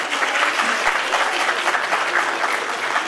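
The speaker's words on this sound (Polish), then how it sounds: "Ja przyjmuję brawa, jak się Państwo zgadzają." Sustained audience applause at a charity auction during a Great Orchestra of Christmas Charity fundraiser finale in Strzelce Opolskie, a dense steady wash of clapping filling the room without pause.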